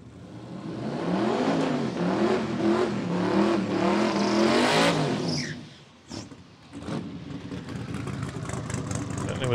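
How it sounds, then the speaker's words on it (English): A loud car revs hard at a trackside during testing at the Brisbane Jamboree, its engine wavering close and powerful before cutting off abruptly, followed by a few faint bangs and a lingering rumble. "Was a loud car."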